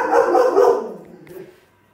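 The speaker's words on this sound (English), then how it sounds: "My dog was barking." A pet dog indoors gives a few quick, close barks, then the sound trails off into quieter whimpering and fades out.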